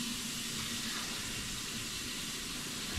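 Water runs steadily from a tap beneath a brand-new house, a continuous hiss that is faint but unbroken, with no voices.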